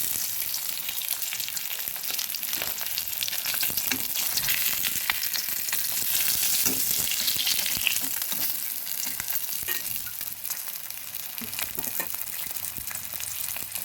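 Fresh katla fish pieces frying lightly in a pan, a continuous close crackling sizzle with occasional stirring taps, steady throughout and free of talk.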